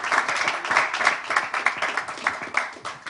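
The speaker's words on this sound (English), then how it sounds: "Big round of applause for Tejas Mahajan." An audience at a pickleball championship press conference claps for player Tejas Mahajan, a steady, fairly close round of applause with crisp individual hand claps lasting the whole stretch.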